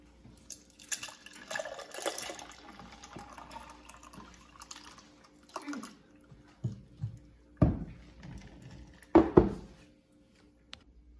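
Carrot and orange water poured into a glass at home, a soft liquid trickle with a few sharper clinks and splashes toward the end, close and fairly quiet with no talk.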